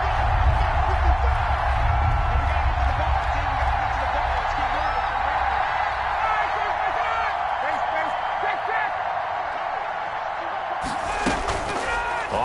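Stadium crowd noise in the Madden 21 football video game, Cowboys vs Falcons, a loud sustained roar building before a big third down, with an announcer talking over it and a sharp burst near the end.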